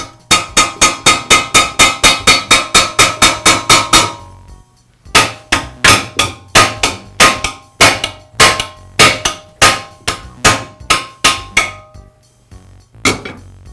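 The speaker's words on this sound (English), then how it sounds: "Now I'm going to use a punch and a hammer to try to free the tine from the shaft." Sharp metallic hammer blows strike a punch to free a cultivator tine from its shaft in a fast, steady run, then pause and continue in slower, heavier hits, loud and close.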